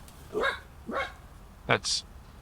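A puppy barks outdoors while chasing birds away, giving four short, sharp barks at a moderate distance with brief gaps between them, the last one higher and yippier.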